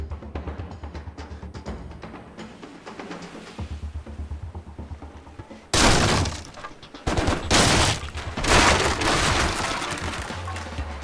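Bursts of assault rifle fire in the action game Stranglehold come in two loud volleys, the second broken into repeated spurts, following a stretch of quieter game sound and music.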